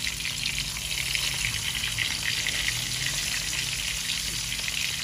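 Fish sizzles steadily in hot oil in a pan, a dense, continuous frying crackle that holds at an even level throughout with no talking.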